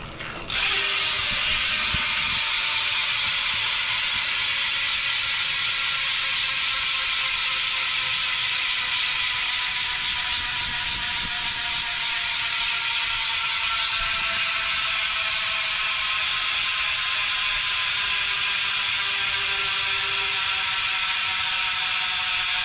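Freewheel hub ratchet on an SE Bikes Big Ripper spinning freely: a loud, continuous, rapid buzzing click that runs alone and gradually slows and softens.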